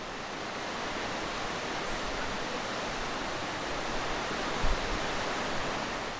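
Meltwater from thawed ice rushes through a mountain valley stream at Kumgangsan in spring, a steady, dense, broadband roar of flowing water heard close and without pause.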